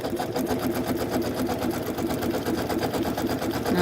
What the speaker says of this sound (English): then I'm heading towards the center so I can start stitching.